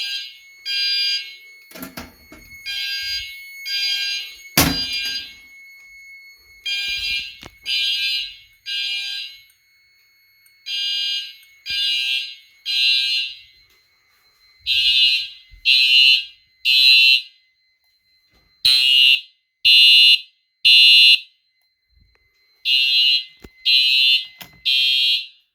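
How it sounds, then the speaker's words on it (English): A smoke detector fire alarm sounds during a fire alarm system test, giving bursts of loud, shrill, rhythmic beeps in regular groups separated by short silences, close and clear with no talking. "I'm going to clear that smoke out in the smoke detector"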